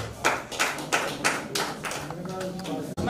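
Audience applause at a poetry event, a burst of clapping hands that swells and settles over about three seconds, fairly near and moderately loud, ending with a brief sharp knock.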